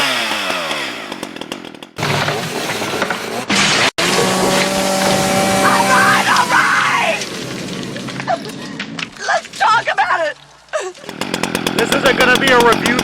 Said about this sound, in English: anything involving a chainsaw is not exactly a chore or a task to me